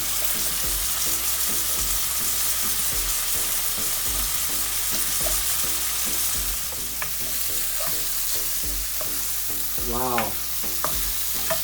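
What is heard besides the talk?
peppers frying with cooked onions in a pan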